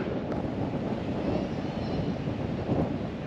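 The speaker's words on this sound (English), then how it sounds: "I know it is a bit windy" Low, blustery outdoor wind at Campbeltown, Scotland, rumbling against the microphone, constant and fairly strong with no speech.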